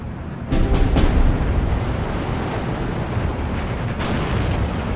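A loud, rumbling explosion bursts from the Steel Division 2 tank battle and then decays into a long roar, with a second blast rising near the end.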